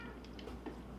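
Minecraft cats give a couple of short, soft meows against a steady background hum, quiet and close together, no one speaking.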